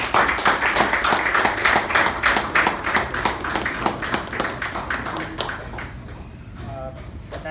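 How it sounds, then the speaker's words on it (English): A small club audience at a Toastmasters meeting gives a round of applause welcoming the club president, brisk, close clapping that fades after about five seconds into quieter room sound with a brief voice. "So please help me welcome the President, Toastmaster Gaurav, with a huge round of applause."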